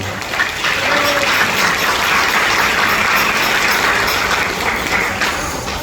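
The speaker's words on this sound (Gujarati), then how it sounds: "જે લોકોએ આયોજન કર્યું છે એમને પહેલા તાળીઓ વગાડે" Steady crowd applause at a senior citizens' Prajapati community gathering, a sustained wash of many hands clapping for the organisers, loud and close, fading slightly toward the end.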